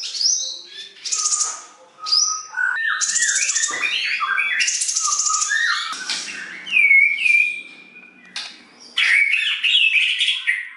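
A white-rumped shama songbird sings loudly and close by in varied bursts of clear whistles, rich warbles and sharp chirps, phrases separated by short pauses, with no talking over it.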